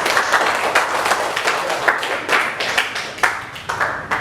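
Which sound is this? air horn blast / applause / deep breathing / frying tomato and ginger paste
applause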